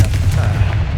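A Confringo spell blasts a barrier in Hogwarts Legacy, a heavy low boom with a rumbling tail that holds steady for about a second.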